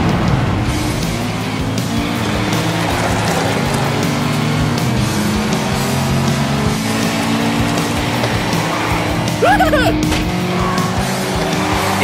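Race cars in an animated race roar steadily and loudly throughout, and tires squeal and skid in short bursts near the end.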